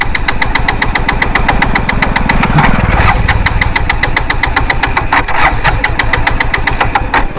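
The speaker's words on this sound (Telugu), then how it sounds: "వెహికల్ స్టార్ట్ అవుతుంది ఆగిపోయింది" Motorcycle engine running on a petrol-diesel mix, cranking and catching with a rough, rapid knocking pulse, loud and close throughout with no talk over it.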